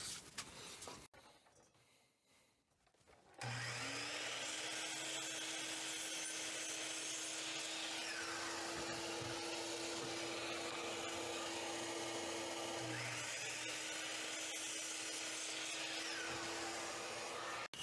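A saw cuts two 6-inch wide wood pieces down to 7-inch lengths, producing a loud, continuous grinding rasp with a steady motor tone that runs without pause after a brief quiet start.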